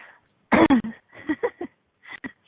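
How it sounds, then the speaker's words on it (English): A person coughs and clears their throat in a few short, close bursts, with brief bits of voice between them and near silence around. "Excuse my coughing."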